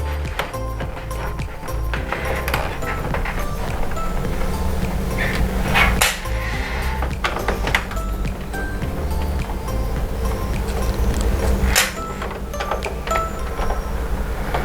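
A screwdriver backing seven screws out of the plastic cover of a Marvel air conditioner, giving a series of sharp clicks and scraping taps at irregular intervals over a constant low background hum.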